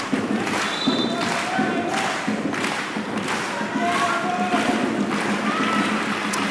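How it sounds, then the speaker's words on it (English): A crowd chants rhythmically at a boys volleyball spirit night match, with steady pulsing beats and repeated voices filling the gym at a loud, even level. "Crowd's back in it. There's a lusty chant heading around."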